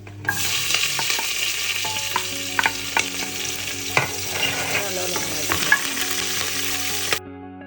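Curry leaves, half an onion and long-cut ginger sizzle loudly in hot oil, a dense, continuous crackling hiss with occasional stirring clicks and pops that cuts off abruptly near the end.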